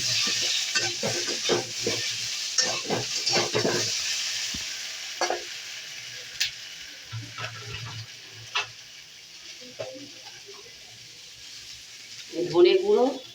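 Grated ginger sizzles in a pan with mixed vegetables, stirred with a series of scraping, clattering strokes over a soft steady frying hiss, plus a brief louder clink near the end.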